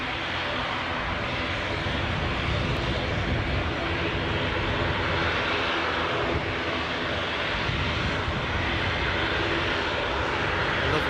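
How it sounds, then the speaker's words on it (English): Aer Lingus ATR 72-600 turboprop taking the runway at Newcastle airport, its propellers and engines producing a loud, steady broadband roar and drone that holds unbroken throughout, close by and alone. "As the ATR 72-600 in its Aer Lingus livery takes the runway now."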